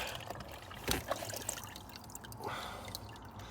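Water drips and trickles out of the air-conditioning drain of a Skoda Yeti 4x4, a soft, close, steady dribble over a low background hum.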